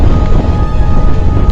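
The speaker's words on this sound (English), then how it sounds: "It's pretty windy up here as well" Strong wind buffeting the microphone on an exposed hilltop on the South Downs in East Sussex, a loud, continuous low roar with gusty rumble and no voices.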